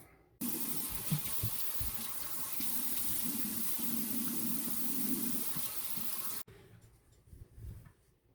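Running tap water splashes steadily into a sink while a face is rinsed clean, loud and continuous with some hand splashing, then cut off abruptly near the end, leaving quiet rustling.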